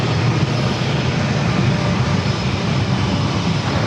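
An American Airlines A321 airliner departs from San Diego airport, bound for Dallas–Fort Worth, with a steady, loud broadband engine roar and low rumble that holds evenly with no voices.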